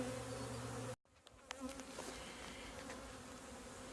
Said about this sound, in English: Lots of bees flying right now back here.